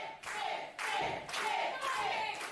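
A wrestling audience claps in bursts, three or four rounds of rhythmic applause with short gaps between, fairly quiet and distant.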